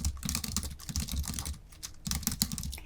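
Rapid keyboard typing on a computer while entering a slide title in PowerPoint, a dense run of close clicky keystrokes that pauses briefly around the middle and then resumes, with no voices.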